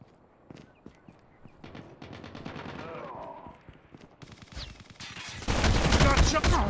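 Automatic weapon fire in the Call of Duty Mobile deathmatch game, with rapid bursts that grow into a loud, sustained fusillade near the end and game voices in the background.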